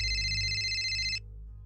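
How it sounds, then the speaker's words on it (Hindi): Mobile phone ringing, a loud, steady electronic tone with bright harmonics that holds for about a second and then stops abruptly, leaving a low hum. "लेकिन तभी जेराल्ड का फोन बज उठा।"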